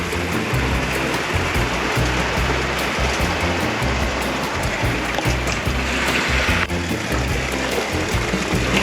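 Very wet concrete rushes and splashes continuously down a 6 m chute, a loud, steady watery flow with gurgling surges throughout.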